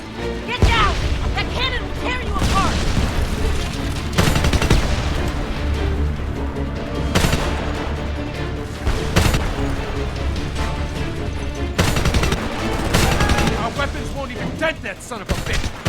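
Video game gunfire in Homefront crackles in dense bursts and volleys, with sharp booms punctuating a loud, chaotic battle mix.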